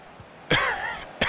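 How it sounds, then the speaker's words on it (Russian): One loud, raspy cough bursts out close by, followed by the start of a second cough. "простите за кашель"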